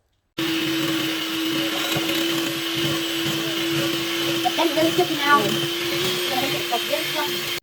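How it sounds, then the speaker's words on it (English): A blender runs steadily for several seconds while baking ingredients are blended at home, a loud continuous motor whir with a few bumps and rattles near the end, and voices talk over it. "And now we're going to blend."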